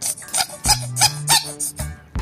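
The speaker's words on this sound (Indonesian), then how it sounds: "Wah, ikannya bunyi teman-teman ya." A goldfish being cleaned of mud gives off a run of bright, high squeaks in quick irregular bursts with short pauses between them, close and fairly loud, and no talking.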